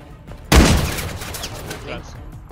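Gunfire in a snipers vs runners video game, one sudden loud shot bursting out and ringing into a long decaying echo, with faint voices in the background.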